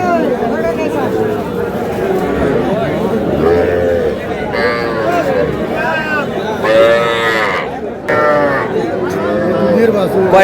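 Young bulls and heifer calves at a crowded rural cattle market, several loud, drawn-out moos rising over constant background chatter and haggling voices, with people talking nearby throughout.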